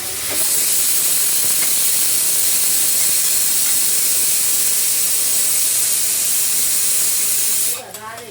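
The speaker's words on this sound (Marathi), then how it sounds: "आता बघा, टमाटा चांगला मी तेलामध्ये एकदम गळू दिलाय." Tomatoes cooking down in hot oil in a home kitchen pan, a loud continuous hissing sizzle up close that holds steady before dropping away at the end.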